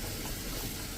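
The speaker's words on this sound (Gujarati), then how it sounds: "અને એને પણ આપણે આ રીતે તેલમાં એકદમ સરસ ક્રકલ કરશું." Dried red chillies and spices crackling in hot oil for a kadhi tempering, a steady dense sizzle throughout with a brief sharper burst of pops at the very end.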